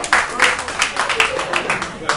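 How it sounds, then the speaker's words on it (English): Audience at the River Ranch party clapping for the cameraman, a burst of scattered hand claps with a few sharper accents spread across a couple of seconds, moderately close and steady. "Give him a round of applause"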